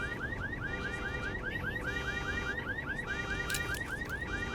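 A video game car alarm blares alone in a looping electronic siren, its rising whoops repeating steadily and evenly over a dense background hiss.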